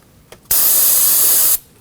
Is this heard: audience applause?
no